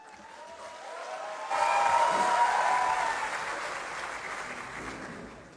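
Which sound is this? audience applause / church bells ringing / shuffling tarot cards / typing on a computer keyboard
audience applause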